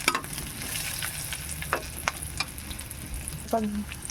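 Onion and garlic sautéing in a pan while being stirred for ginisang kalabasa, a steady close sizzle with scattered scrapes and clinks of the utensil against the pan.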